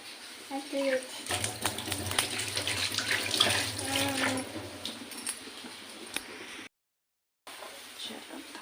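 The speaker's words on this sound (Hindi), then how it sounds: "पानी और हाथ धो हाथ धो" Water runs from a tap for several seconds as hands are washed, splashing steadily under a person talking, then cuts out briefly.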